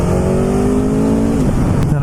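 A 2022 Aprilia Tuono V4 Factory motorcycle engine revving hard, a loud close howl holding a high pitch before dropping off sharply near the end.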